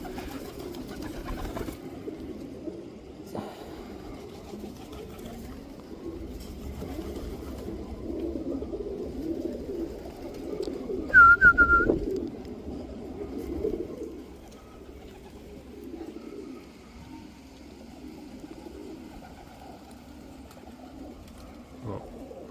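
Budapest pigeons in a loft cooing softly and steadily at a distance, with a brief louder flutter and call partway through. Low room noise sits under it and no one talks.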